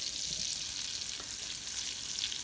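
Butter with garlic sizzles in a pan over medium heat for a spinach omelette, giving a steady, even crackling hiss that stays constant from start to finish, with no voices.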